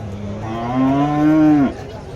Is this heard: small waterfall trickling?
no